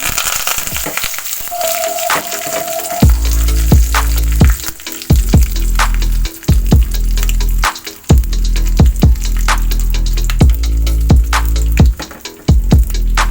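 Curry leaves dropped into hot oil for tempering a bitter gourd pickle, bursting into a loud, crackling sizzle that continues steadily with sharp pops and spits, close up and with no talking.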